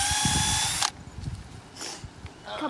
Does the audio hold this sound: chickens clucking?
no